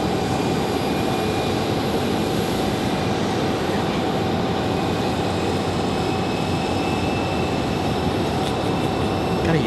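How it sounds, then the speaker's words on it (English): American Airlines Boeing 737 jet pulling out for departure at Raleigh-Durham airport, bound for DFW; a steady, broad engine roar holds at an even, fairly loud level throughout with a faint tonal whine above it. "737 American ready for departure. Or no, this is our one off to DFW. Pulling out from here."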